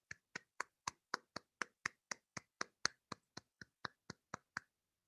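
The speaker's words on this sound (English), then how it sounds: "Let's have a round of applause for him." A single person clapping about eighteen times at a steady, even pace at a Toastmasters chapter meeting, crisp and close, stopping abruptly into silence.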